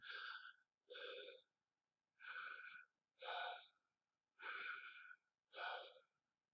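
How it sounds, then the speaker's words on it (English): Quiet, normal tidal breathing with six soft, evenly spaced breaths in and out, each lasting under a second and separated by short pauses, close to the microphone and alone. "I'm breathing in and out normal"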